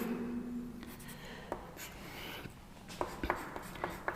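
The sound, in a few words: writing a chemical formula on a board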